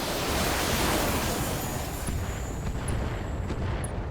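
A mech unleashes acid weapons in the BattleTech strategy game, a heavy, sustained roaring blast that holds steady and loud for several seconds.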